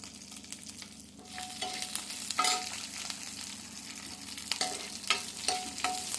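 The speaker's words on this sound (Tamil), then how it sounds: "நல்லா நிறம் மறு பச்சை மிளகா வறுத்துட்டு" Green chillies fry and crackle steadily in a pan, a continuous close sizzle with occasional sharper pops and stirring scrapes, no voices present.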